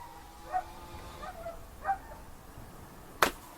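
Several dogs bark outside in the distance, a few faint, scattered yaps over a hissy background, with one sharper bark near the end.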